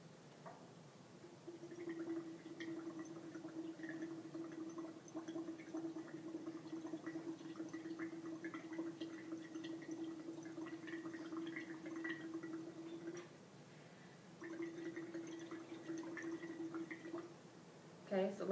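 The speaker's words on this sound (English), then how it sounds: "you're going to steadily blow bubbles into the water for 20 seconds" Breath blown steadily through a straw into a water solution, a lab respiration exercise: a faint continuous bubbling hum lasting about twelve seconds, a short pause, then another shorter stretch of bubbling, quiet and close.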